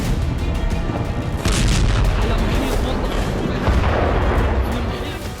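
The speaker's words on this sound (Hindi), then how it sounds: "अस्पताल के पास बड़े धमाके हुए।" Dense, rumbling bombing explosions near a hospital in Gaza roll on continuously, a heavy booming barrage with a sharper burst near the middle, loud and sustained without pause.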